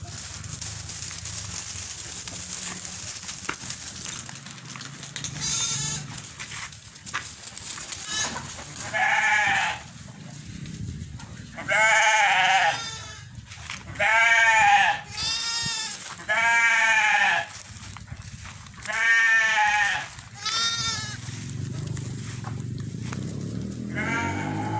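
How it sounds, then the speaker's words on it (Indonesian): Garut sheep in a pen bleat repeatedly, several loud wavering calls in a row, close by, with some background rustle and a little voice in between. "Ini domba-domba yang kita miliki"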